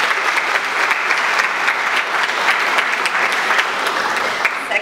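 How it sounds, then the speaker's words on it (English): Sustained audience applause fills a conference hall at a women in business event, a dense, even clapping that holds steady at close range for about five seconds with no voices above it. "So if you want to give another round of applause."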